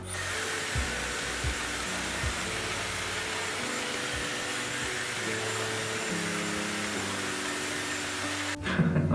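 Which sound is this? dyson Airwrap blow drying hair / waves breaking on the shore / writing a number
dyson Airwrap blow drying hair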